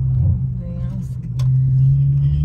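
A BMW F32 coupe with a broken axle pulls away as the driver presses the gas, a deep low engine rumble that firms up and rises in the second half while people talk inside the car.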